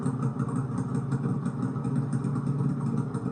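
A Pro Stock drag racing motorcycle engine holds a steady, rough, mid-pitched drone with a fast clattering pulse throughout, loud and continuous with no talk, like a bike idling or pushing over at the line.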